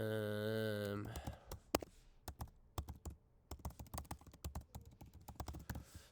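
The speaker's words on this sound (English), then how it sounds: "type in your email address as well." Rapid keystrokes on a computer keyboard enter an email address, a close, irregular clatter of clicks following a brief tonal sound at the start.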